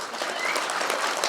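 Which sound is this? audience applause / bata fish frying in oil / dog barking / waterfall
audience applause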